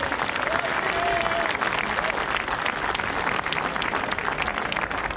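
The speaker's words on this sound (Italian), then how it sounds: "Grande applauso alla fanfara di Lecco." A crowd applauds the Lecco Bersaglieri brass band at an outdoor gathering, with sustained, dense clapping at steady volume throughout and a faint whistle or voice briefly rising above it.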